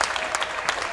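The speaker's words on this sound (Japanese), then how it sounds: "遠方から応援に駆けつけてくれたファンからの温かい声援。" Warm applause and cheering from baseball fans at Fukushima's Yorkkaiseizan Stadium after the Ibaraki Astro Planets' season-final game, a steady wash of clapping with a few brighter bursts filling the whole moment.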